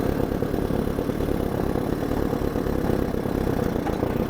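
An Allis Chalmers D14 tractor engine runs steadily in low gear while plowing a garden, a continuous loud rumbling drone with no pauses or other sounds over it.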